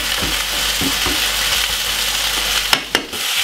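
A steak sizzles loudly in a pan just after being turned. A continuous close hiss carries soft stirring scrapes, and two sharp clacks come near the end.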